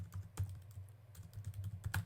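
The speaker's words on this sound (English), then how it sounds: "I'm just copying over it and typing in invoice status and a colon" Computer keyboard typing during data entry in Alpha Anywhere grid software, a quick run of close, light key clicks with brief pauses, alone and without talk.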